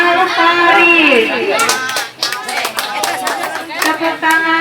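Brief clapping from a small audience at a student award ceremony in Indonesia, following a loud spoken announcement and mixed with nearby chatter and children's voices.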